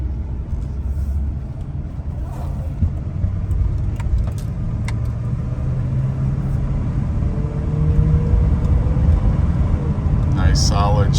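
Heard from inside the cab, a 1986 Chevrolet K10 truck drives with a steady low engine and road rumble, its pitch rising and falling through transmission shifts, while keys jangle and someone talks over it.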